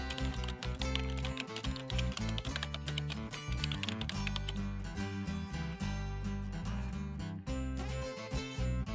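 Quick keystrokes on a computer keyboard, typing a stock indicator name into a trading chart's search box, clatter close and steady over loud continuous background music for the whole stretch.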